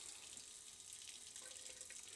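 A cold water faucet in an RV runs steadily during freshwater system sanitizing, a faint continuous hiss of flowing water with no voices.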